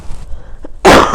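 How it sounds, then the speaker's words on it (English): One loud, harsh cough bursts out close to the microphone after a quiet stretch with a faint breath, and a shorter throaty catch follows right after. "still gonna cough"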